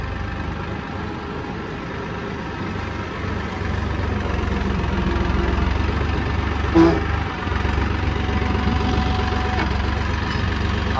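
A tractor engine idles steadily in cold, snowy outdoor conditions, a continuous low diesel rumble heard close, with a brief clunk partway through and no speech over it.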